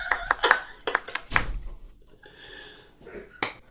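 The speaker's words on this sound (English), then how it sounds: "I want you to clap it for me" Hands clap out a long-short-short rhythm, a group of sharp, close claps repeated at an uneven pace, with a softer murmur of voice and one last crisp clap at the end.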